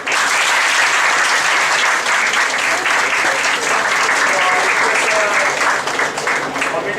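Audience applause honouring teacher award winners at an inter-college book review competition, dense steady clapping from a large crowd filling the hall throughout.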